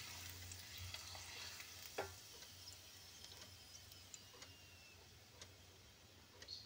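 Aloo papad frying one at a time in oil over low heat, a faint steady sizzle with soft ticks and occasional stirring clicks, no talk.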